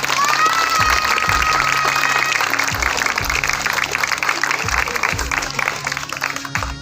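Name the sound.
crowd applause at Republic Day flag ceremony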